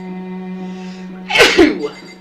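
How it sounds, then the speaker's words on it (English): A single sharp, loud sneeze bursts out close by after a brief intake of breath, against a steady electrical hum, during Danganronpa play on a Nintendo Switch 2. "usually I sneeze twice"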